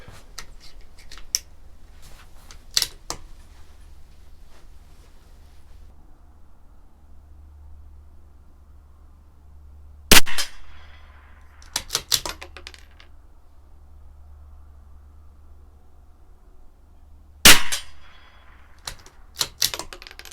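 Sharp, isolated shots from a CZ 457 rimfire rifle at a 50-yard pistol-match range, widely spaced cracks with clicks of bolt handling in between over a quiet background.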